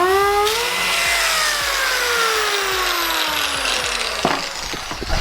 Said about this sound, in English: And now we're gonna start sanding it.